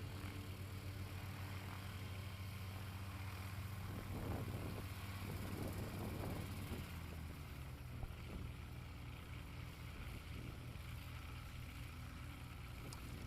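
A STOL light aircraft with an Apex engine takes off at a mountain short-takeoff practice, its propeller engine a faint, steady droning hum with a slightly rougher surge in the middle before settling back.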